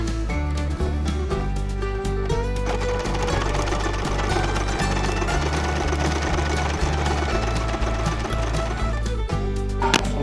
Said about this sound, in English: A lot of sewing.